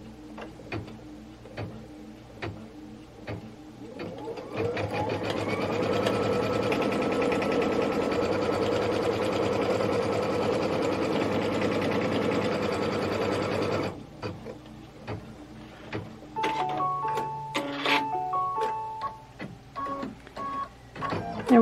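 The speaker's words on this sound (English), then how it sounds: "Now we're going to stitch the pocket window tack down line, and then we'll change our thread." An embroidery sewing machine stitches a pocket window tack-down line in a steady, fast mechanical whir for about nine seconds, close and alone, framed by scattered clicks and handling taps before and after.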